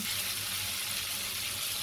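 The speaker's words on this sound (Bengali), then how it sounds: "মাছগুলো ভাজা হওয়া পর্যন্ত একটু অপেক্ষা করব।" Steady, close hissing sizzle of pangasius fish frying in oil in a pan, an even crackle continuing throughout without voices.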